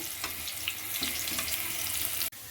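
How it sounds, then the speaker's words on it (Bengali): Potato pieces frying in hot oil, seasoned with salt and a little turmeric, a soft continuous sizzle heard close but quiet, with a sharp click near the end. "আলুগুলো লাল লাল করে ভেজে নেব।"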